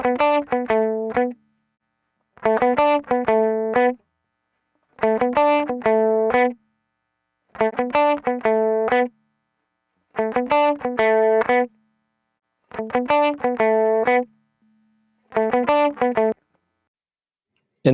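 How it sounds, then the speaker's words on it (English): Guitar run through a Goodhertz Tupe distortion effect plays a short repeated phrase seven times, each burst of gritty, harmonically rich notes lasting about a second and a half and separated by clean silences. "Also going to get a little more distortion, obviously."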